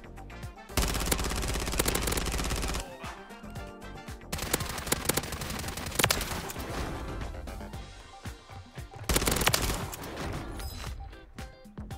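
Rapid automatic bursts of ISO 9mm submachine gun fire in a first-person shooter video game, loud sustained volleys broken by short pauses, with a brief quiet gap near the start.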